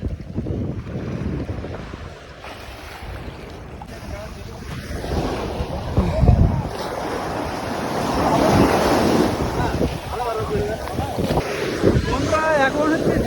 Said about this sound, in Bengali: এখন মানে বড় বড় শুধু ঢেউ আসছে বড় বড় আর জোয়ার এটা হচ্ছে জোয়ারের টাইম